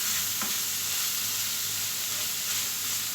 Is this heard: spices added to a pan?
yes